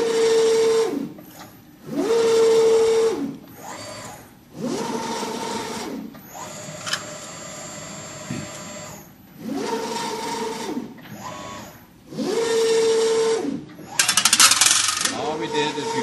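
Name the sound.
Nosstec machine running an automatic cycle, arm closing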